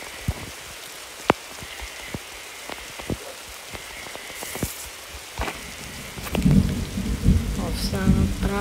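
Rain patters steadily in the video game 99 Nights in the Forest while a few sharp cracks stand out, then a louder low rumble of thunder from a lightning strike rolls in near the end.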